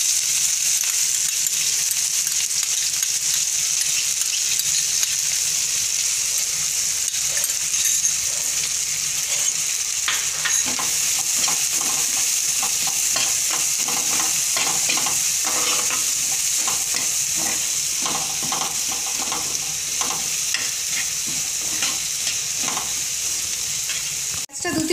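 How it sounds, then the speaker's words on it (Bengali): Chopped garlic and onion fry in hot oil for an egg masala curry, giving a steady, loud sizzle with stirring and scraping throughout and no talk. "প্রথমে তেলে আমি রসুন কুচিটা দিচ্ছি, এর সাথে দিয়ে দিচ্ছি পেঁয়াজ কুচি"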